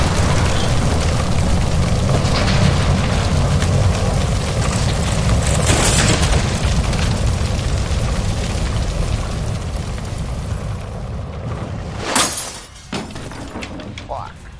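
A gas line blows up after being shot in L.A. Noire, during the PC version of the game: a sudden sharp blast near the end cuts through a long stretch of dense, roaring noise, followed by quieter rumbling debris.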